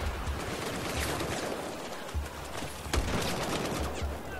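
Enemy gunfire in the video game Battlefield 4: continuous rapid bursts of automatic fire crackling throughout, dense and fairly close, over a low rumbling game backdrop.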